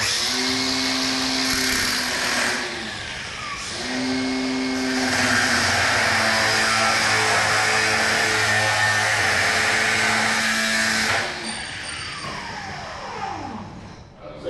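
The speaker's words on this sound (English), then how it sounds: "I'm just gonna take a regular sander, a grinder, cut off wheel on it." An angle grinder fitted with a cut-off wheel cuts through a metal piece during a nitrous system install, a loud, steady high-pitched whine that rises and dips through several passes before spinning down near the end.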